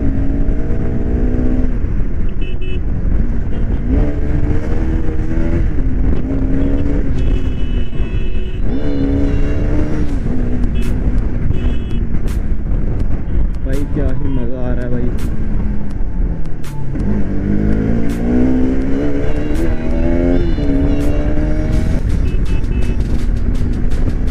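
A Bajaj Pulsar RS200 motorcycle accelerates hard on a ride, its engine note rising and falling steadily through the gears under constant wind rush, with someone talking over it.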